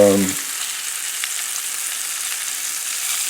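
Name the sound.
shrimp frying in a pan being turned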